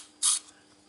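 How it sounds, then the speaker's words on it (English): A single short burst of purple spray paint hisses along a tape edge, quick and close against a quiet background. "Spray some of the original purple paint I used on the stripe and paint it along the edge."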